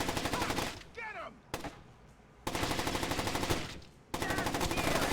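Gunfire in Splinter Cell: Chaos Theory, long bursts of rapid automatic shots, loud and close, broken by short pauses with a shouted voice in one gap.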